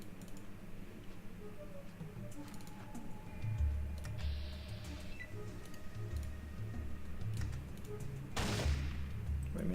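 A few sharp gunshots from a weapon in the Fallout 2 video game, fired at a rat, burst out over a steady game ambience, with one shot near the middle and another near the end.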